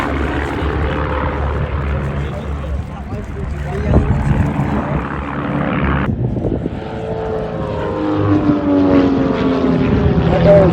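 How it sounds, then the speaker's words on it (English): Propeller aircraft from the wingwalker and Team Raven displays at the Southport Airshow 2025 fly past with a loud, sustained engine drone that rises and shifts pitch, heard under continuous commentary. "So, well presented, it's a good aircraft to handle, flexible"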